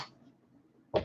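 A single sharp knock lands close by near the end of a short, quiet stretch filled only with a low background hum.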